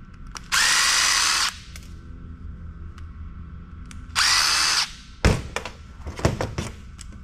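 A power drill unscrews fasteners from an APC intelligence module during e-waste scrapping, two loud whirring bursts of about a second each, followed by clunks and knocks of parts being handled.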